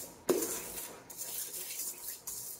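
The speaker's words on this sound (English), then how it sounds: "I can hear the whisk on the sugar, and it sounds gritty to me." A whisk stirs a gritty sugar mixture for buttercream in a bowl, giving close, steady scraping strokes with a few sharper clinks against the side.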